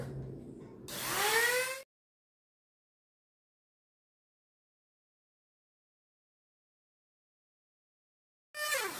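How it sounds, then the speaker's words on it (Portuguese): Rotary micro-grinder cutting into PVC pipe: a short, rising, whining spin of about a second that cuts off into silence, then starts again at the very end; close and fairly loud. "vou utilizar aqui a minha micro-retífica. Para fazer esse corte"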